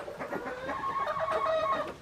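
Chickens on a farm cluck and make a brief squawking call, close and moderately loud, with no talk over them.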